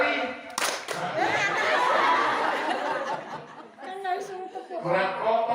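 An audience at the opening of a travel agency's branch office in Cibedug, Ciawi, claps once on command. A single sharp clap is followed by a stretch of laughter and chatter, and then people talk.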